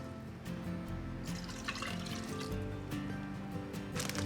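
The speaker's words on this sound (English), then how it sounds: "I'm adding 8 cups of water" Water pours steadily into a cooking pot for chicken and noodles, a continuous splashing fill of about eight cups running without pause at close range, with no voices.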